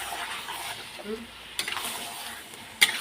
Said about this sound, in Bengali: তা এখন চিকেনটা আমি কষিয়ে নেব